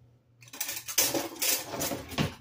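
A metal spoon is picked up from among pots and dishes in a home kitchen, making a short run of close clinks and rattles of cutlery against cookware.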